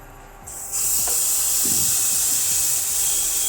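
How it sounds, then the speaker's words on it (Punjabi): Paneer and gram flour chilla batter hitting a ghee-greased pan on an induction cooktop bursts into a loud, steady sizzling hiss after a quiet start, holding strong to the end with no talk. "ਹੁਣ ਆਪਾਂ ਇਹਦੇ ਉੱਪਰ ਬੈਟਰ ਨੂੰ ਪਾ ਦਵਾਂਗੇ"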